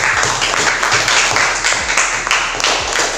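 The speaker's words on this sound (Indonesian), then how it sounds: "Kita kasih tepuk tangan sekali lagi." A classroom gives a round of applause during a teacher's art-lesson practical exam, steady dense clapping from many hands filling the room without pause.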